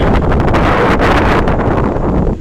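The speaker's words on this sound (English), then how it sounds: "that wind's coming out now" Wind blowing hard outdoors in a cemetery, a loud continuous roar and buffeting against the microphone, with gusts swelling and easing throughout.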